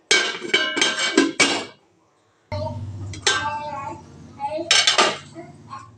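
Metal cake pan and lid clanking in a home kitchen while baking a coffee cake, several sharp clinks and clatters close by, a short silent gap, then more metallic knocks and scraping.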